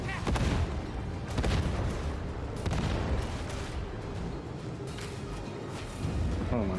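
A grenade goes off in Darktide amid ongoing battle noise, a series of heavy booming blasts and cracks spread across several seconds, with a voice under the din.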